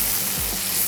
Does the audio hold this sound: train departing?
no